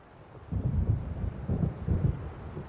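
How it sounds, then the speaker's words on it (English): Low rumbling thunder of an approaching storm in the video game Alan Wake Remastered, rolling in a few swelling waves over a faint windy background, with no talk. "It seems there's a storm coming."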